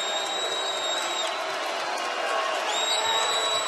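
A crowd cheers at a college basketball game between Louisiana Tech and Southern Miss, a broad steady roar filling the arena, with whistle-like tones, under the arena noise throughout.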